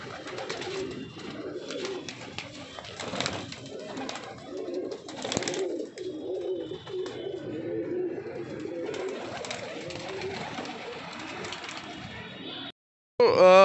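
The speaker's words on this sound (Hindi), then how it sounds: "तो ये कबूतर है, देखें दोस्तों, सारे के सारे, सभी के सभी जो कबूतर थे वो ये है" Punjabi pigeons in a loft give steady soft cooing throughout, close and layered among many birds, with a brief loud knock near the end.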